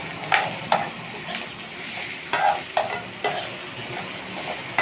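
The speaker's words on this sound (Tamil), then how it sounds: "நல்லா வதக்கிக்கலாம்." Onions and green chillies sautéing in oil in a pan for an egg stir-fry, a soft steady sizzle broken by several sharp scrapes and clacks of a spoon stirring.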